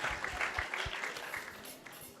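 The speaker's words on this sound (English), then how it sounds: "So let's give them a big round of applause and thank Hari Bol." Applause from a temple audience after a Bhagavad Gita discourse, fairly soft and scattered, with a few low thumps and faint voices mixed in.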